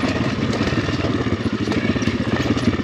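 An Apollo RFZ enduro motorcycle engine runs continuously, loud and close, with a steady throbbing, clattering drone and no talk over it.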